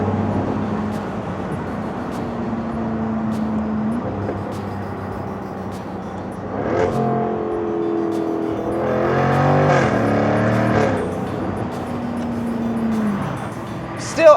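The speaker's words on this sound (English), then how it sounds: "You really clearly hear that exhaust difference." A Jaguar F-Type R75 Convertible sports car engine idles with a low steady drone, then revs sharply twice, the exhaust note rising and falling in pitch before settling back to idle.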